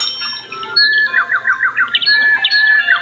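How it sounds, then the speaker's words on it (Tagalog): Many birds squawking at once, loud close chirping calls repeating in quick bursts, a dense chattering flock with no talk. "Ba't ang dami ibon?"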